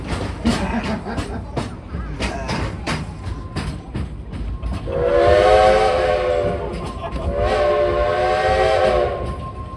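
Sharp clattering knocks lead into two long, loud blasts of a steam whistle on the Frisco Silver Dollar Line No. 14 steam train at Silver Dollar City, the second following a brief dip in volume.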